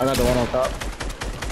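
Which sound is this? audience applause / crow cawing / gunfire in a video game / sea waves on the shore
gunfire in a video game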